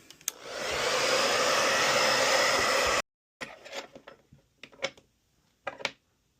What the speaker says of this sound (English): Time for the blow dryer again.